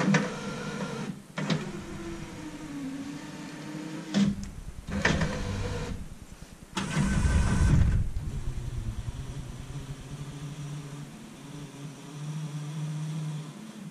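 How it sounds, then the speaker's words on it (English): Electric power window motor in a car running on a low battery, a strained whirring hum in several separate bursts with short pauses, heard up close inside the vehicle. "make sure that this window is working for this side as well as controlling the other side"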